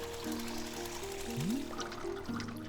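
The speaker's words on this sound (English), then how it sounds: "pull down on the rope and to pour as much water as you'd like" Water pours into a tea machine in the video game Wanderstop, a steady liquid fill running under soft layered game music for nearly three seconds, with no speech.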